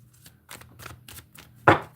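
A few soft, papery slaps of tarot cards being shuffled in a quiet room, ending with one louder, sharper riffle.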